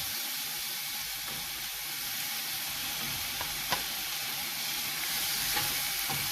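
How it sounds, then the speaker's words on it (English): Chopped onion sautéing with ginger garlic paste in a pan, a steady close sizzle throughout with a couple of faint stirring clicks. "Add the chopped onion,"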